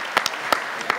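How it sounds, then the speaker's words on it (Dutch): A few scattered, separate claps from an audience at a 2018 debate in the Odeon, Rotterdam. About five sharp hand claps land unevenly against a quiet room background. "Applaus voor de jongeren."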